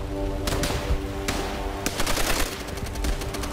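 Gunfire in the video game Call of Duty: World at War during a co-op mission against Japanese forces: bursts of automatic fire and single shots with a faint game tone underneath.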